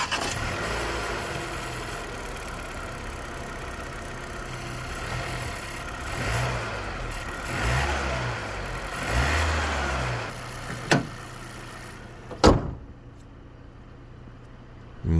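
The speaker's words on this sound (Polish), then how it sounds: "Tak ten silnik pracuje." A Renault Captur 1.3 TCe 160 petrol engine with mild hybrid and seven-speed EDC dual-clutch gearbox hums at a quiet idle, then revs up and down a few times with a low exhaust note before settling.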